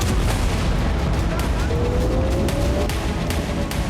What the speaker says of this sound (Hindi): किर्यत याम पर हिज्ब ने कई रॉकेट हमले किए और इन हमलों से जगह जगह आग लग गई।